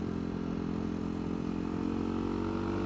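CCM Street Moto R motorcycle engine answering the throttle, a loud close continuous drone that holds steady and rises slightly in pitch, with no talk over it.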